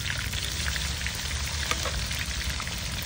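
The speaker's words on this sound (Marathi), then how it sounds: "अद्रक, लसूण हिरवी मिरची चांगलं फ्राय झालेले." Ginger, garlic and green chili frying in oil for bhendi fry, with a steady, dense sizzle and crackle that holds evenly throughout, close and loud with no talking.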